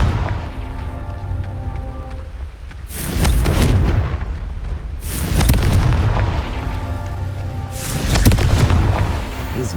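Confringo spell explosions in the video game Hogwarts Legacy: three loud, deep booms with crackling blasts, spaced a few seconds apart over a rumbling low background.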